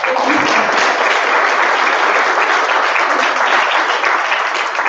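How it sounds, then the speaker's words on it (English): Steady, dense applause from a conference audience filling a room, loud and continuous for several seconds with no talk over it. "So I think a big round of applause for everyone."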